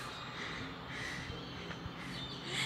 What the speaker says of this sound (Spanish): Y todos esos palmeras se juntan los zanates, dice mi mamá, que se llaman como esos cuervos